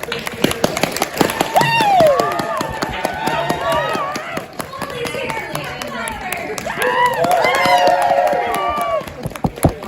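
Audience clapping at a voice-actor Q&A panel at a fan convention, scattered sharp claps running underneath someone speaking into a microphone, with crowd noise around her.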